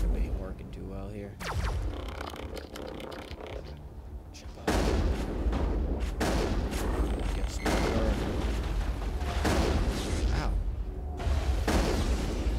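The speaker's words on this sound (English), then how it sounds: "The shotgun ain't working too well here." Shotgun blasts boom repeatedly in the video game Mass Effect during a Geth attack on the colony of Feros, heavy booming shots layered over dense battle noise and rumble, with voices talking in the background.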